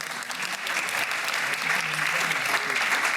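A panel audience gives sustained, dense applause that stays steady and fairly loud throughout, with a faint murmur of voices underneath.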